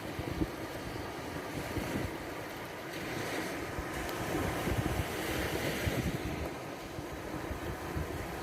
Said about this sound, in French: écoute le murmure apaisant des vagues